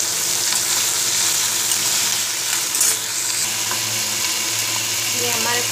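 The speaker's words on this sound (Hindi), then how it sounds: "ये हमारे कॉर्न फ्राई हो रहे हैं" Corn kernels and capsicum frying in oil in a pan, a loud continuous sizzle and crackle that holds steady throughout, with a brief clatter near the middle.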